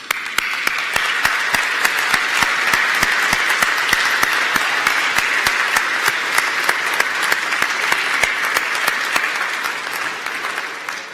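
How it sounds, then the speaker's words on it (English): A large graduation audience at City of Glasgow College applauds graduates' parents and faculty, a loud, sustained wash of clapping from many hands that continues steadily throughout. "give them a huge round of applause"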